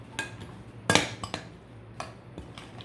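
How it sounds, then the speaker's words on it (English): A spoon stirs a pot of chicken and dressing, making a handful of quiet metallic clinks and knocks against the pot at irregular intervals, the loudest near the start. "Give it a stir."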